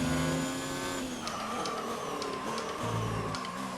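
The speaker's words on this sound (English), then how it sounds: "That's a big lock up there" A Formula 1 car in the F1 2019 video game locks up its tyres at the Bahrain Grand Prix, giving a loud, continuous engine whine with a screeching skid that lasts several seconds.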